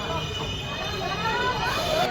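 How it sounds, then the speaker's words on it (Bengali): A train pulls into Sainthia Junction in the evening, a faint rumble with thin squealing wheel tones rising beneath soft crowd murmur on the platform. "সন্ধে প্রায় সাড়ে সাতটার সময় ট্রেন এসে পৌঁছালো সাঁথিয়া জাংশন"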